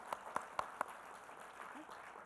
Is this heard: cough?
no